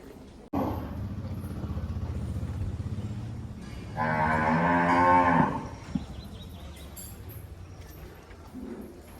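Cows mooing at a temple cow shelter in Tamil Nadu, including one long, loud, close moo in the middle and shorter lowing calls around it, with some nearby voices.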